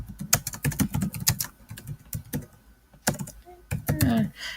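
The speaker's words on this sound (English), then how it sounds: "So we would just type that" Rapid irregular clicking of keys on a computer keyboard as an article title is typed, bursts of close, crisp keystrokes with short pauses between words, no talking.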